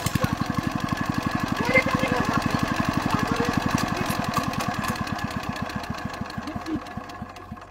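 A motorbike engine that keeps cutting out after being started, running with a fast, steady thumping beat close by and slowing slightly toward the end.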